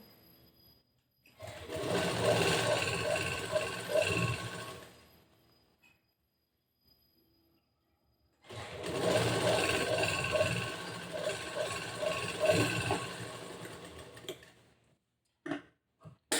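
A sewing machine runs in two long bursts, stitching a quarter-inch fabric allowance on a boat-neck blouse. The steady close-up whir is separated by a few seconds of near silence, then ends with a couple of light knocks.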